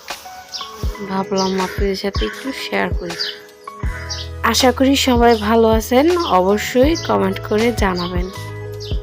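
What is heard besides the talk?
birds chirping in the morning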